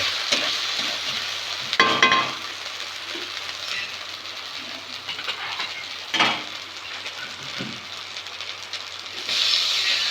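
Bay leaves and chillies frying in hot oil for a Bengali fish curry (tel jhal) give a steady hiss and crackle, with a few louder sputtering bursts as the pan is stirred and no talk.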